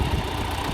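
A tractor engine idles steadily in a pasture, a low, even rumble with constant vibration and no talk over it.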